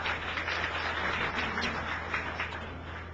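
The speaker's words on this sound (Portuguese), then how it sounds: "y un buen aplauso" Seminar audience gives a speaker a welcoming round of applause, a soft, even wash of many hands clapping at a distance, steady for a few seconds.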